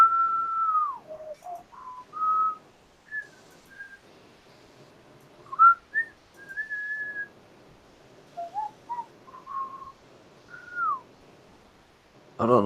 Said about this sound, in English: I was whistling The Incredibles